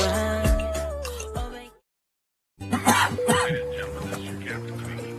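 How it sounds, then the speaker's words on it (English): Harsh, loud throat-clearing and coughing bursts in two stretches separated by a brief silence, heavily voiced and close. "I have a cough"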